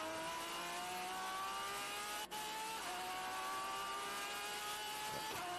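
Vintage racing cars at speed on the Indianapolis Motor Speedway circuit, a steady loud engine drone with rising pitch as they accelerate, a brief dropout midway and another car passing near the end.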